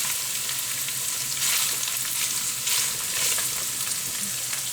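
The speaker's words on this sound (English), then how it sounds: "this is sizzling" Minced beef sizzles steadily in a hot pan while browning, a continuous close crackle with slight swells in intensity and no talking.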